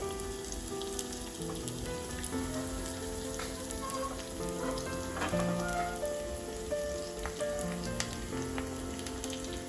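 Mustard and fenugreek seeds spluttering in hot oil during tempering, a steady sizzle with scattered sharp pops, close and fairly quiet.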